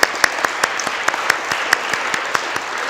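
Audience applauds a group of women singers at a poetry and faith gathering, a steady wash of clapping with sharp individual claps standing out in a loose, quick rhythm throughout.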